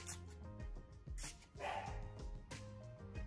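A dog barks in the background in a few separate, fairly distant bursts spread a second or so apart.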